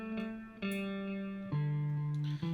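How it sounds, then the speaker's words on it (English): Sustained distorted guitar notes repeating with echoing tails, a delay send with the dry track turned fully down, wet with no crisp direct attack, changing pitch a few times. "What you're hearing there is just the delay."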